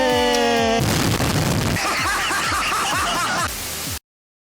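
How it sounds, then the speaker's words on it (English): A pipe bomb goes off in an animated sitcom, a loud cartoon blast bursting over a short musical sting, with crackling debris and a steady rhythmic thump beneath before it cuts out abruptly. "It's a pipe bomb!"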